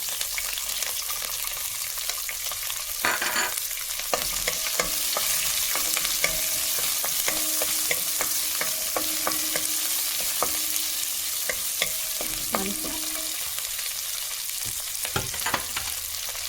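Garlic, ginger and green chili fry in hot oil over toasted cumin, a steady close sizzle running throughout with scraping stirs and utensil knocks scattered across it, no voices.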